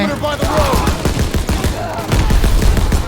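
Rapid machine gun bursts and scattered gunshots in the Call of Duty WWII video game, loud and dense, with MG42 fire in an Operation Cobra battle as a voice talks over the shooting.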